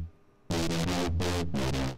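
Heavily distorted, chorused Serum synth stabs for a track: four or five short, loud, buzzing hits in a choppy rhythm after a brief quiet lead-in, with no talking.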